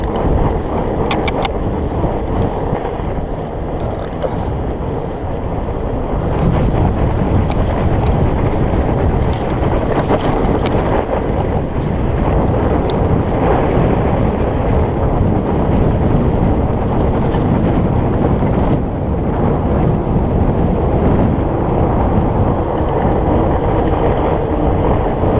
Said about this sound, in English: Oh yeah, so we do have a headwind.